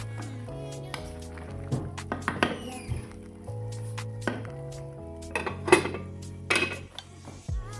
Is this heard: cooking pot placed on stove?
yes